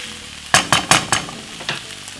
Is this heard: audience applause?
no